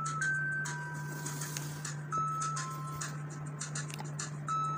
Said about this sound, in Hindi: म्यूज़िक आपको यहाँ से कोई यूट्यूब से चला कर सुना देते हैं कि इसका स्पीकर का लेवल कैसा है